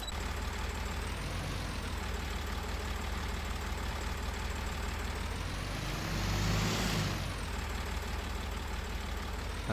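A farm tractor engine idles with a steady, continuous rumble at close range, holding an even drone that briefly swells louder for a moment before settling back to the same idle.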